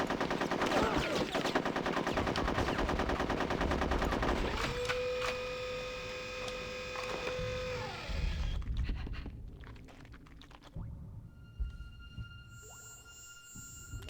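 Gunfire in Conker's Bad Fur Day: a dense, continuous rattle of rapid shots that fades midway, followed by sparse clicks, tones and game sounds, with no talk.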